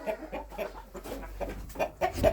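Cochin hens cluck in short, repeated bursts close by in a garden, a quick uneven rhythm of soft calls with no talking.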